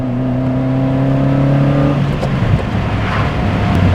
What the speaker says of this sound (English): So I'm just in second gear right now, and we'll just speed up, obviously speed up in the fit